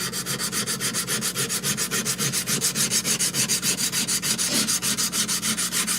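Steady rhythmic rasp of a chef knife blade with a hamon being hand sanded from 120 toward 220 grit, even back-and-forth strokes close up with no talking.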